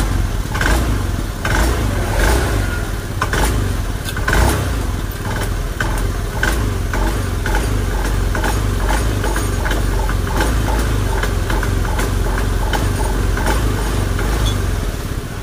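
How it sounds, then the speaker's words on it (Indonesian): A fuel-injected Honda Beat motorcycle engine revs repeatedly, with loud close throttle blips that rise and then stumble and hesitate. A steady idle runs underneath between the revs. "Ya kadang-kadang ya benar-benar ampos ketika digas itu seperti ngosong seperti itu bro."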